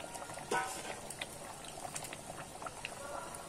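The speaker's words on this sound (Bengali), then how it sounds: "ভালো করে কিন্তু আমি ঝোলটাকে ফুটিয়ে নিয়েছি" Curry broth for Bhetki fish with taro bubbles as it boils in a pot, a faint steady simmering burble with small pops, heard close and alone.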